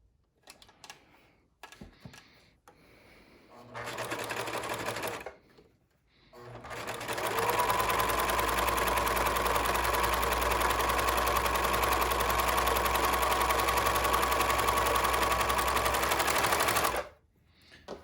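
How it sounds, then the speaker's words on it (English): An overlock machine stitches the seams of a cloth face mask. A couple of short bursts are followed by one long, steady, close whirring run of rapid stitching, with brief pauses and handling noises around it. "But I use the overlock machine because I have one and it's faster."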